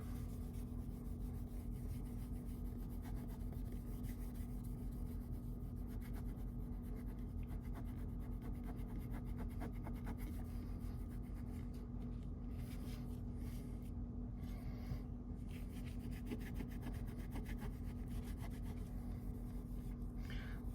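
A carbon-steel Spåre knife is rubbed with polishing paste in a continuous, even scrubbing rasp that runs steadily for about twenty seconds, close up and with no talk.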